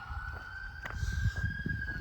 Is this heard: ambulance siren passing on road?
yes